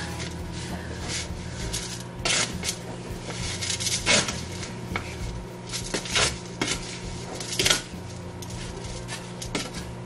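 Potting soil is stirred in a small container, giving close, irregular scraping and gritty rustling with scattered clicks and knocks over about ten seconds, with no voice.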